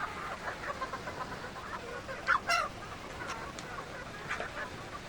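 Gamefowl chickens cluck softly over a background hiss of steady heavy rain, with one louder squawking burst partway through.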